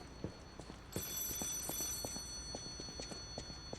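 A high, shimmering telephone ring starts about a second in and continues in Lies of P, set in the city of Krat, above a steady series of clopping hoofbeats.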